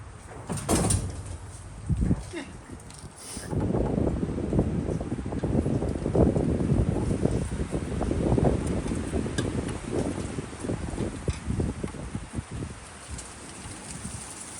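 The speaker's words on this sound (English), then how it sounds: "This wind is crazy." Strong wind gusting outdoors around a 1976 Oldsmobile Vista Cruiser that has sat for over 21 years, with a steady roaring buffet on the microphone after a couple of brief thumps near the start.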